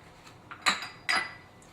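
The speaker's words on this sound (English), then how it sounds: "These little dishes with the butter in them, I'm going to throw them in the microwave" Small dishes holding butter for poor man's lobster with rockfish clink against each other as they are set into a microwave, two short, fairly quiet ceramic knocks about half a second apart, against a quiet kitchen hush.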